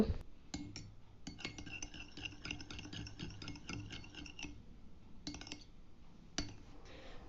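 A spoon clinks and scrapes steadily against a bowl while tomato ketchup and vinegar are stirred together with soy and chilli sauce for a chilli fish recipe, a quiet rapid rattling run broken by short pauses.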